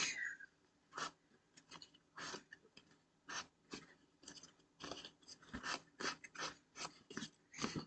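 Scissors scrape along the edges of patterned card paper to distress them, making a rapid series of dry, raspy strokes close up, each a short scratchy burst with brief pauses between.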